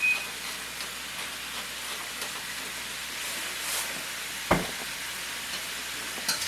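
Food sizzling in a pan on a burner set to medium high, a faint steady crackle with occasional soft scraping from stirring and one brief clink of the utensil against the pan.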